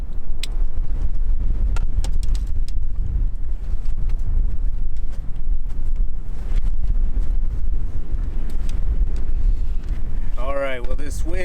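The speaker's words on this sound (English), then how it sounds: "this wind may cut our day a little shorter" Strong wind buffets the microphone beside a river during a fly fishing outing, a loud continuous roar with gusty bursts throughout, and a voice speaks briefly near the end.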